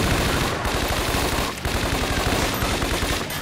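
Loud, sustained automatic gunfire from the Scarface: The World Is Yours video game, with rapid overlapping shots that barely pause before the firing resumes.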